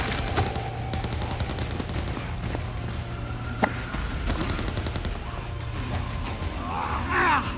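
Gunfire in the zombie co-op game Overkill's The Walking Dead, scattered shots and short bursts popping over a steady low game rumble, with a louder crack near the middle and some mid-range clatter toward the end.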